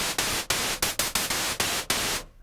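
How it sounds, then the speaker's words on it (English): Bright white noise from a vintage Octave Cat synthesizer, played as about eight sharp, evenly loud hissing bursts separated by brief gaps, ending in a quick fade. "It's white noise, but it's nice and bright"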